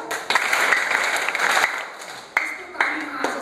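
Audience at a motivational training session clapping in a sustained burst, then a few distinct, separated group claps, heard fairly close in a room.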